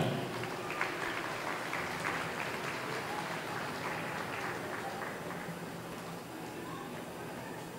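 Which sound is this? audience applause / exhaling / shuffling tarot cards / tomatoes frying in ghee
audience applause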